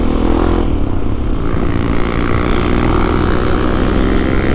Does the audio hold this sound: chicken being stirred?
no